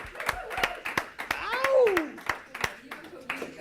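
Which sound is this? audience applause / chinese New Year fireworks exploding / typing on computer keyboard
audience applause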